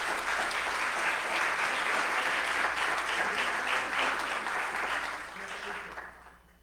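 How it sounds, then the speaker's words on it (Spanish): An audience applauds to welcome a lecturer, Dr. Manuel García y Griego, at a university faculty talk on migrant rights; steady, dense clapping holds throughout before fading out at the end. "Por favor, un aplauso para el doctor."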